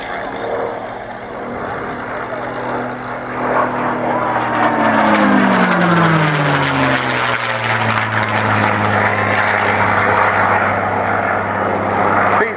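North American P-51D Mustang with a Rolls-Royce Merlin engine in a display flight at an airshow, a loud propeller roar that swells and drops in pitch as it passes, while a commentator talks over it.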